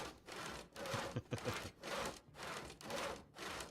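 Wood is sawn in the zombie survival video game Project Zomboid, with a run of steady back-and-forth saw strokes, moderately loud and rhythmic, and no talking over them.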